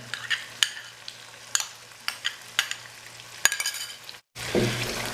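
A cream and yogurt mix goes into a sizzling mutton karahi over low flame, with a steady hiss of frying under repeated sharp clinks and scrapes of a spoon against the pot, then a brief pause and a louder burst of sizzle.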